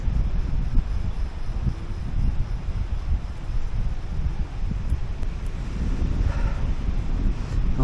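Strong wind buffeting the microphone at the end of a seaside pier, a steady loud low rumble with gusty surges and faint rustling, no talking.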